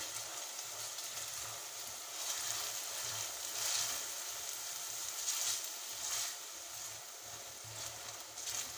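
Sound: onions frying with salt in a pan

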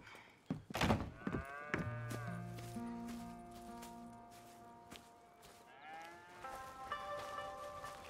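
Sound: cows mooing on a farm in Red Dead Redemption 2 video game

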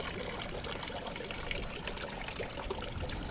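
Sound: water flowing from a public fountain

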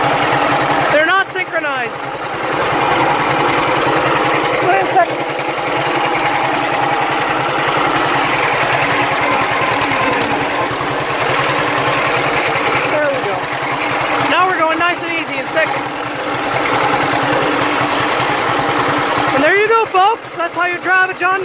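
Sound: John Deere H tractor engine running

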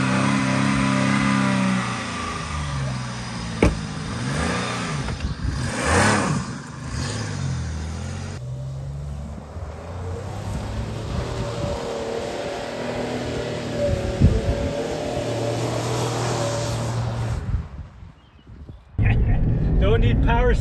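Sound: Dodge Nitro engine revving during a burnout

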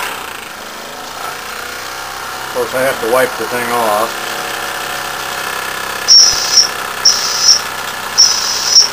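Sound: Jensen model toy steam engine running under steam

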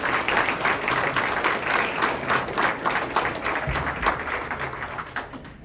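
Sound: congregation applause at a church service

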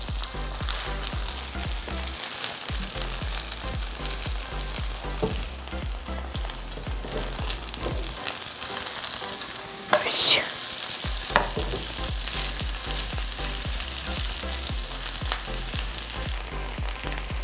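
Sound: chive pancake frying in oil

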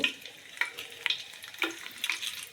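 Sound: whole spices frying in oil for chicken biryani

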